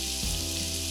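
Coriander, cumin and garam masala sizzle steadily in a hot pan, a continuous close frying hiss with no talking.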